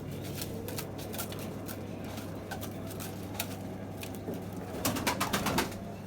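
Soft coos from hungry pigeons at feeding time murmur in the background amid scattered clicks and rustling, with a steady low hum and a busier burst near the end.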